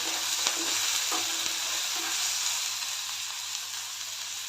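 Steady sizzling hiss of masala frying with turmeric and garlic in a pan, a few faint scrapes of stirring breaking through the even crackle, close and continuous.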